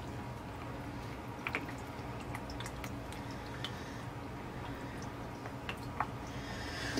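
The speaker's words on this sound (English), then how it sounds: "So I'm just going to keep transferring and letting it drip." Apple scrap juice drips through a strainer into a container, faint sparse plinks falling irregularly over a quiet room hum.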